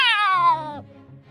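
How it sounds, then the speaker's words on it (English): A cat lets out one clear, close, descending meow as a sound effect in a spoken children's story, followed by quiet background. "A cat with sharp teeth and sharp claws jumps up on the table."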